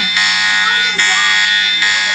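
A phone's lock-device alarm blares a harsh, loud electronic buzzing tone, pulsing in a few repeated bursts while someone talks over it.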